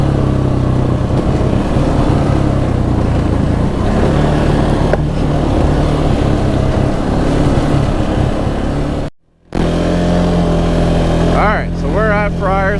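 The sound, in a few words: ATV engine braking downhill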